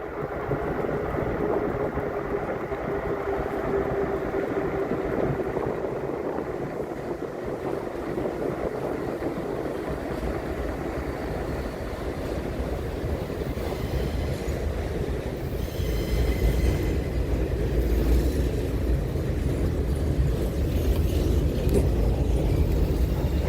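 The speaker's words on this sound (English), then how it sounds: "Oh, there's a train over here." A train rolls past at night in Henry County, Georgia, with a long steady rumble of railcars, wheel squeal and faint clickety-clack, growing slightly louder toward the end, heard from a moderate distance with no talking.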